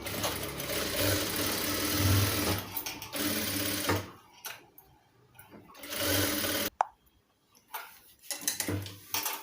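A sewing machine stitches a cloth face mask in bursts of rapid mechanical whirring, stopping and starting several times with brief quiet pauses between runs.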